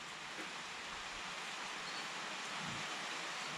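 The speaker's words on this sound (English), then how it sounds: "You hear the rain pitter-patter on the roof here" Rain patters on a farm roof with nothing underneath it, a faint, steady, even hiss with no breaks.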